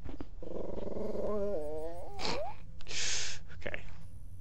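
A puppy growls and whines close by in a few short, strained bursts, with a steady low hum and some noise underneath.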